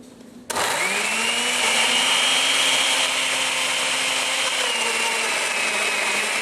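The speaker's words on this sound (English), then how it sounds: "Now we're stepping over here to the blender and pressing blend, I hope." Kitchen blender switches on after a brief quiet moment and runs steadily at a loud, high-pitched whine, its motor pitch dipping slightly near the end, with no talking.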